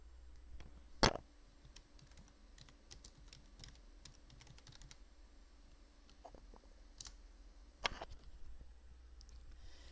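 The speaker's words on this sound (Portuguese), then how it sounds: "Vamos lá digitar." A computer keyboard being typed on to enter a database command during a lesson. Scattered soft keystrokes come in short runs, with two louder sharp key clicks, quiet and close, with no talk.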